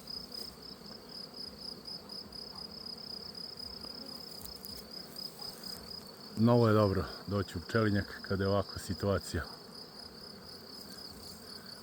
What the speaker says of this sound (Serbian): Ovo zujanje, nekome je muzika za uši, a neko se i plaši.